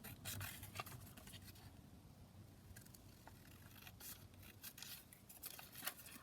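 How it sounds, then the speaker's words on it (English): Scissors snip around a printed image cut from a book, a series of close, crisp, quiet cuts in irregular bursts with short pauses between them. "So I'm just going to kind of cut around this."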